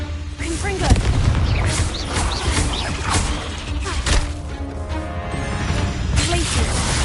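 The Confringo explosive spell is cast during a video game duel, with booming blasts and crashing impacts over a dense, loud battle din as voices shout spells throughout.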